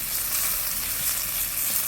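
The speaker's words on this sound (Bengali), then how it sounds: "এখন তেলানির পেঁয়াজটাকে আমি বাদামি করে ভেজে নিই।" Chopped onion frying in oil with cumin and bay leaf, a steady close hiss of sizzling with fine crackle, constant level throughout before cutting off abruptly.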